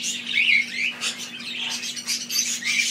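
A pet bird chirps and squawks in quick, bright bursts, near and fairly loud, with short pauses between calls and a steady low hum underneath.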